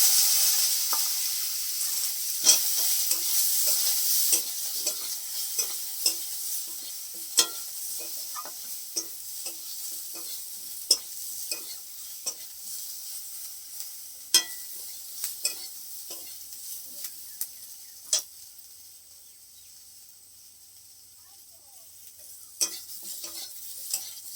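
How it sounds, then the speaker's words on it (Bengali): Sliced eggplant sizzles and fries in a pan with dried whole chillies, steady hiss under sharp scattered clicks and scrapes of a spatula stirring, fading slightly toward the end. "এই যে বেগুন যে কেটে নিয়েছিলাম এই বেগুনগুলো দিয়ে দিলাম"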